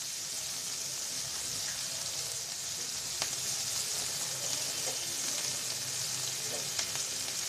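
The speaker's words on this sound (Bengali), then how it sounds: "মরিচ পেঁয়াজটা আমি লাল লাল করে ভেজে নেব।" Chopped onion and green chili frying in oil in a pan until reddened: a steady close sizzle with faint crackles and the odd stir, no talking.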